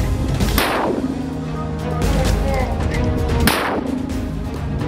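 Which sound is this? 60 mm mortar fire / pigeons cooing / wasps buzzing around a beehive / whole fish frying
60 mm mortar fire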